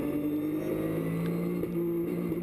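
Porsche GT3 Cup race cars at Spa drone past with sustained engine tones, a steady high whine and a shifting pitch midway, heard at moderate distance.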